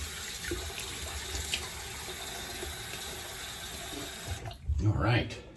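Tap water runs steadily into a sink to rinse a 1964 Gillette Slim adjustable razor, a close continuous splashing stream that shifts near the end as the razor passes under it, with a voice speaking over part of it.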